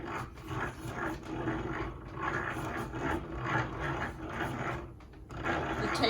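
A yarn ball winder spins up close, giving a continuous clattering, ratcheting mechanical whir with a gentle rhythmic pulse as yarn is wound onto it.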